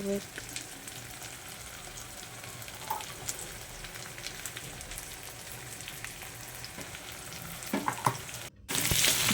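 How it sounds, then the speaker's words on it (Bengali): Chicken, tomato, ginger, garlic and green chili are stirred in a wok, giving a soft continuous sizzle with scraping stirs and light clatter, heard fairly quietly and close. "টমেটোটা দেওয়ার পর খানিক্ষণ নাড়াচাড়া করে নেব তারপরে আদা রসুন এই যে কাঁচা লঙ্কা যে মশলাটা দিয়ে দেবো"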